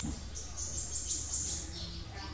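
A pet songbird sings a thin, high, continuous warble, with brief rising chirps over a steady background hiss.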